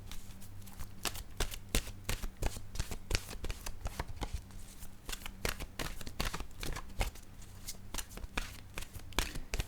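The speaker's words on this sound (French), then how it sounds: "je vais piger une autre carte de mon oracle de l'âme intuitive" Oracle cards being shuffled by hand, a continuous run of rapid riffling flicks and soft slaps in an even rhythm, close and without speech.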